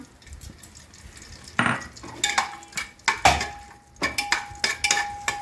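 Garam masala spices go into hot oil for Kashmiri pulao, crackling briefly amid repeated clinks and knocks of a utensil against the pot and a faint thin ringing tone; no voices.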